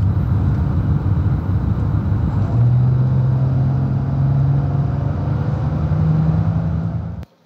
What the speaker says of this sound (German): das ist jetzt aber trotzdem ein Sportwagen oder ein sportliches Fahrzeug, ein Mercedes CLK, und der klingt dann so